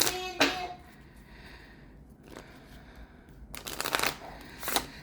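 Oracle cards riffled and shuffled in a few separate bursts, crisp papery flutters close by with quiet pauses between them.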